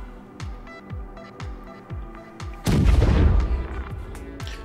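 A size 5 torpedo strikes the Terrapin ship in a video game with one heavy, loud rumbling boom, following a series of repeating descending electronic tones.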